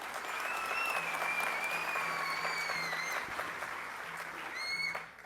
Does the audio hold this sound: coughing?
no